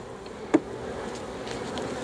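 Honey bee buzzing faintly around an opened small Flow Hive during an inspection, a soft steady hum with one brief nearer pass standing out.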